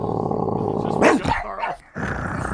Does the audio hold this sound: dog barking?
yes